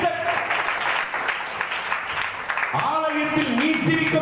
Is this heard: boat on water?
no